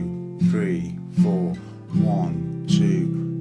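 Acoustic guitar strumming the chorus chords of a song, four evenly spaced strums in a steady count, each ringing and decaying before the next, with no talking.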